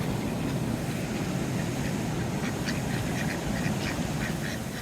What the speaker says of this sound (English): The call ducks, as we've learnt they're called.